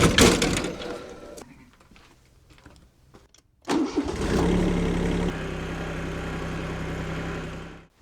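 A tractor engine with an air sprayer mounted on the back cranks and starts, then settles into a steady, loud running drone after some clanks and a pause.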